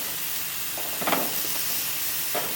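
Venison backstrap steaks about a quarter inch thick searing on a grill, giving a steady soft sizzle and hiss with brief crackling swells, moderately close and without talk.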